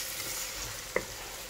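Tomatoes sautéing with salt in a pan give a faint, soft sizzle, with one brief clink of a utensil midway through the short stretch.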